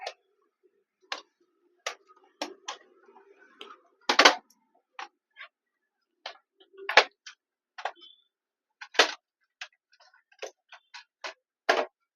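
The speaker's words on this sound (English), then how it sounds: "kindly remove the panel." Plastic clicks and snaps from the bottom panel of a Dell Inspiron 15 3511 laptop being pried off, a series of sharp, separate ticks spread irregularly, close and fairly loud, with no talking.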